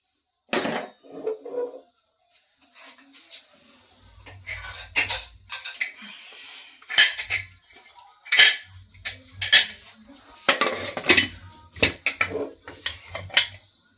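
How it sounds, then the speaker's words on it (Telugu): Cookware is handled on a stove for rice pulav: metallic clinks, clanks and knocks of a pressure cooker lid and pots come in irregular bursts, close and sharp, with quiet gaps between. "కుక్కర్ మీద పెట్టుకుందాం"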